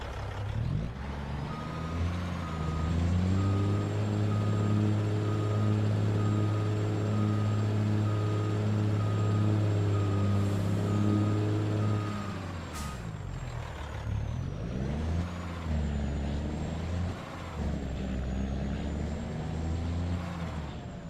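Diesel truck in Farming Simulator 2 idling with a steady engine drone and a high whine, then shifting into revving and maneuvering sounds near the end, close and loud.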